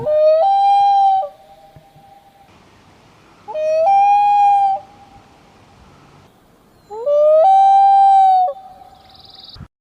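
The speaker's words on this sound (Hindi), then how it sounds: "नंबर 2, लून। यह है सबसे ज्यादा डरावना आवाज निकालने वाला पक्षी।" A loon, a duck-like water bird of northern North America and Eurasia, gives three long, loud wailing calls, each sliding up and then holding a steady tone, separated by quiet pauses; no voices are heard.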